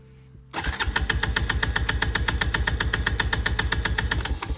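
A small engine, started on a KemiMoto battery, cranks and catches abruptly after a quiet moment. It settles into a loud, close, rapid even chugging idle that continues to the end, with no talking.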